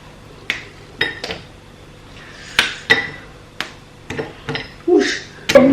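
A knife cutting through cakes at home, sharp isolated knocks and clinks against a plate or board, irregular and close, with brief exclamations from a voice.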